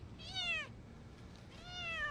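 A frightened cat wedged between twigs gives two drawn-out, rising-then-falling meows, the first louder and the second following after a short pause, both close and clear over faint background rumble.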